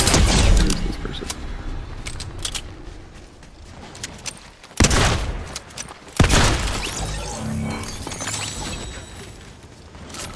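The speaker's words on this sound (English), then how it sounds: "Where did that shooting come from?" Gunfire in a multiplayer shooter game comes as scattered sharp cracks over a dense, busy game soundscape, with two louder impacts partway through and no voices.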